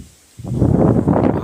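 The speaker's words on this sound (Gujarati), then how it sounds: "ભારે પવન ફૂંકાયો છે।" Strong wind sweeps across a wheat field. After a brief near-silence, a close gust rises abruptly into a steady, rustling roar of moving stalks and wind buffeting.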